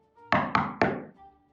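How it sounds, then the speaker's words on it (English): Three quick, hollow knocks on a wooden door for a Little Red Riding Hood puppet show, close and evenly spaced, with faint background hum around them. "Once there, she knocked on the door and waited."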